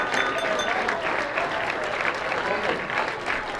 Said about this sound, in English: Another round of applause for this 10 years old Mathil.